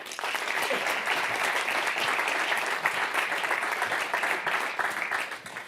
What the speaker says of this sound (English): please welcome on stage with a big round of applause, Patrick Andersson.